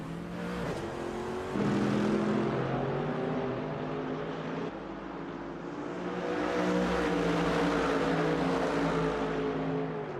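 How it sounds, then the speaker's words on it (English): Mercedes race cars in an endurance racing video game at Shanghai, their engines roaring loud and steady with rising and falling revs as several cars run close together, no voices over them. "I just had to pause for a moment to listen to the sound of these Mercedes"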